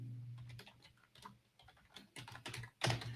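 Computer keyboard typing during a livestream, rendered as irregular clusters of soft key clicks with short pauses, fairly faint and close, with no voices.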